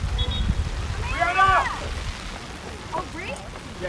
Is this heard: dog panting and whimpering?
no